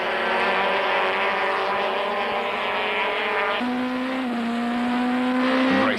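Touring car engines roar during a 1999 Kyalami race as one car closes right up on a BMW under braking for the kink. The loud, steady engine note shifts down in pitch partway through, heard close from onboard and without talk.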